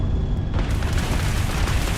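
Missile explosions boom in the Starfield video game, a continuous, heavy rumbling blast that swells and roars loudly throughout with no pause.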